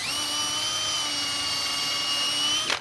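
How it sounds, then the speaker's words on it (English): A power drill whines at a steady high pitch while boring a 5/16 pilot hole for an outdoor swing stand build, running continuously for a few seconds before spinning down abruptly at the end. "So you want to drill a 5/16 pilot hole for them."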